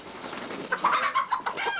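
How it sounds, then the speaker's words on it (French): Hens at feeding time cluck and call from close by in a short, irregular burst of squawks over faint background noise. "Pour nourrir ses poules, Monsieur Berge prend ses précautions"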